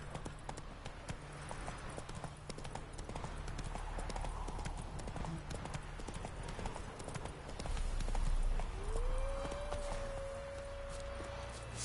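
Steady, rhythmic hoofbeats of Roach, the horse in The Witcher 3, clip-clopping continuously under in-game ambience, with a tonal whine rising near the end.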